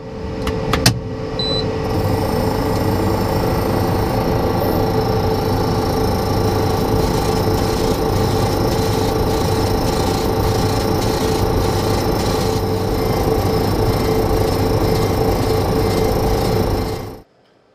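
A laser engraver burns a design into wood, giving a loud, steady mechanical whir with rapid fine ticking that runs unbroken for about seventeen seconds before stopping abruptly.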